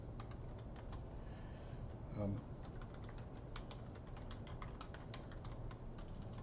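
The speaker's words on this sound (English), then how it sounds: "I'm just going to type welcome into the chat room" Someone types on a computer keyboard, producing quiet, rapid clicking keystrokes in uneven bursts over a constant low background hum.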